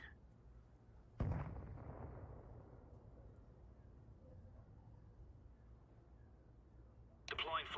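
A grenade goes off in Counter-Strike 2 with a sudden heavy blast that rumbles and decays over several seconds, followed later by another sharp burst.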